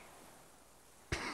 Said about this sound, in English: The man interrupts him, then coughs.